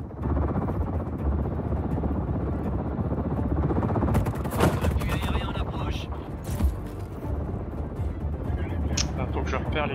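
Helicopters circle in Just Cause 4 with bursts of gunfire and explosions, a steady loud rotor-and-engine roar underneath, sharp shots cracking through mid-clip, and game voices talking over it.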